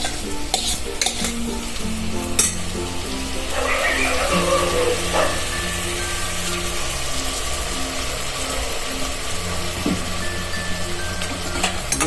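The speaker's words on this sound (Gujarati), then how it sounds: "હવે પછી નાખી દઈશું આ રાઈસ બધા." Rice stirred into a frying pan with chopped tomato and asafoetida, for vaghārelā bhāt, with steady scraping and clinking of the spoon against the pan over a continuous low sizzle, close up and with no talking.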